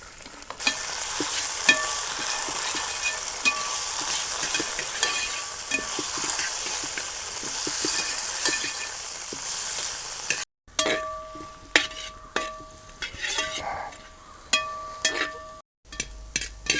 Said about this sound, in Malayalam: മുന്തിരെല്ലാം ഫ്രൈ ആയിട്ട് വന്നിട്ടുണ്ട് ക്യാരറ്റ് ഫ്രൈ ആയിട്ടുണ്ട്